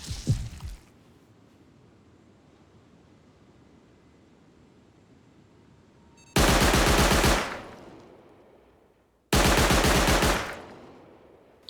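An electric turret in the video game Rust fires two loud, rapid automatic bursts, each lasting a couple of seconds with a dense rattle, separated by a short gap after a long quiet stretch.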